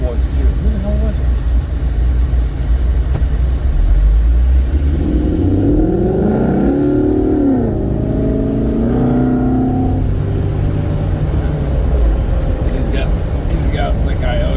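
A Coyote V8 car engine revs and rumbles loudly at a car cruise, pitch rising and falling through a couple of throttle bursts, with voices talking over it.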